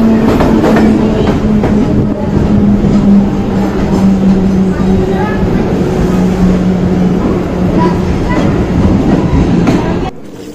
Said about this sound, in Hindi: मैं जिस एक्सप्रेस में बैठा हूँ उस ट्रेन का नाम नागरकोइल एक्सप्रेस है